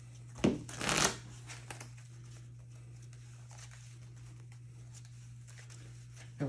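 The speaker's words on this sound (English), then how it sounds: "I can shuffle up my deck from there." A Pokemon TCG card deck is shuffled in one quick riffling burst near the start, then a soft hum and faint handling noises remain.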